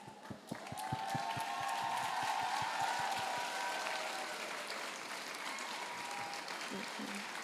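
Applause from a graduation certification ceremony audience swells quickly and holds as a steady, dense wash of clapping from a large crowd, with a few sharp claps at the start.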